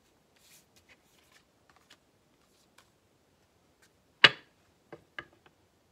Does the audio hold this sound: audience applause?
no